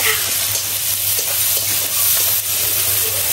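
Onions frying in a pan on a home stove, a steady close sizzle and hiss with faint stirring scrapes throughout.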